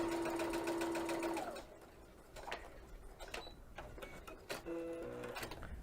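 Sewing machine running a straight stitch through textured laminate with a Teflon presser foot: a steady, rapid mechanical whir with ticking, pausing briefly, then resuming quieter, close up and without speech.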